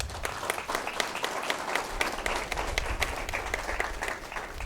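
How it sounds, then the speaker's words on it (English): An audience at a medical equipment donation ceremony claps steadily, a sustained wash of many hands at moderate distance, fairly faint and even throughout. "Can you clap for her, please?"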